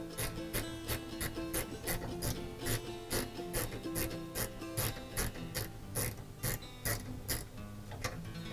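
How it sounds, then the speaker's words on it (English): A 1/4-inch drive gear wrench ratchets a 5mm hex bit tight while assembling a DeWalt DWX726 rolling miter saw stand, giving a steady, close series of regular clicking strokes with no talking. "So we're going to put the gear wrench on and we're just going to tighten this down."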